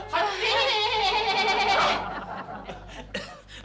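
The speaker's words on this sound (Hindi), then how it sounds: "आपने घर में बकरा पाल रखा है क्या?" Goat bleating indoors, one long wavering bleat with a quavering, shaky pitch lasting nearly two seconds, followed by softer trailing noises and a brief quiet voice.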